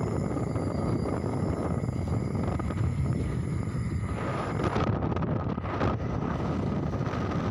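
Steady, loud wind rushes past the microphone of a rider on a moving bike, constant and buffeting throughout with no speech.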